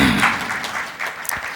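Audience applause at a Jain sermon, a dense steady patter of clapping from a crowd filling the short stretch at an even level.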